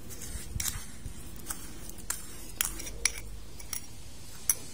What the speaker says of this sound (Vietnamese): Tiếp theo mình sẽ cho cái phần hỗn hợp đường với chanh với muối lúc nãy nè.